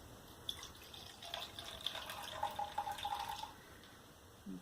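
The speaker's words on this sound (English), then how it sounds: "So I'm going to take 1/4 water" Water is poured into a bowl while making slime, a soft, close trickle and splash lasting a few seconds with faint background noise and no talking.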